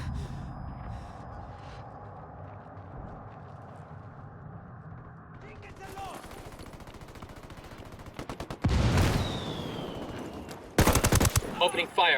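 Gunfire in the video game Ghost Recon Wildlands, with bursts of automatic fire and loud shots that build toward the end. Game voices and ambient battle noise run underneath.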